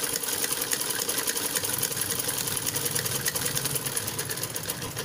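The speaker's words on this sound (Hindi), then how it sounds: "इसको आप डबल सिलाई भी कर सकती हो ताकि ये पूरा फुल स्टिच हो जाए।" A sewing machine stitches a kurti seam in one continuous run, its fast, even mechanical rattle and hum steady and close throughout, with no talking.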